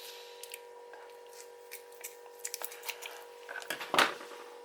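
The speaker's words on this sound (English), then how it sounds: "just get a pair of good scissors and cut the rind" Scissors snip through the rind of raw pork chops in a home kitchen, giving a run of quiet, close, crisp cuts that grow denser and end in one sharper snip, with no talking.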